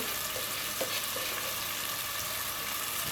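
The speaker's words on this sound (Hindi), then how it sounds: "लहसुन अदरक का पेस्ट डाल रहे हैं 2 टेबल स्पून" Garlic ginger paste, two tablespoons, sizzles and fries in a hot pan for a dhaba-style white chickpea curry, a steady close hissing crackle with faint stirring and no speech.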